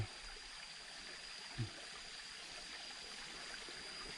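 A small stream flowing in rainy-season forest near a dam, a quiet steady trickle and burble of water with a soft bump near the start and another partway through, no voices.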